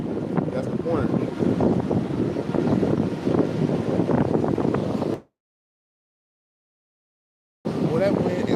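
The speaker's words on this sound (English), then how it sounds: "Well, that wind is blowing" Strong outdoor wind buffeting the microphone, a loud continuous low roar with gusty texture that suddenly cuts out, then resumes.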